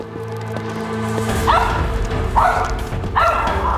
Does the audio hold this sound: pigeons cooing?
no